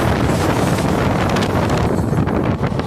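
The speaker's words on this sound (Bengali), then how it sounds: "বাইরে চলছে প্রচণ্ড হওয়া, মোবাইল নিয়ে যাওয়া যাচ্ছে না" Strong wind roars loudly and steadily past a moving local train on the New Jalpaiguri to Haldibari special, a dense buffeting rush with no voices.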